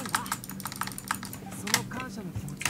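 Rapid typing clatters on a computer keyboard: dense, irregular key clicks close by, with talk running over them.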